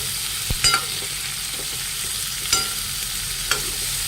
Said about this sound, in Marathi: नंतर शिमला, काकडी, टोमॅटो, यांना पूर्ण मिक्स करून झाकण ठेवून आपण याला शिजू देणार आहोत।